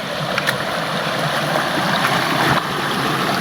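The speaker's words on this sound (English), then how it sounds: "First stream crossing of the trip." Steady rushing of a stream being crossed on the Quehanna Trail in spring fills the clip, a broad continuous wash with a few small splashes, close by and without talking.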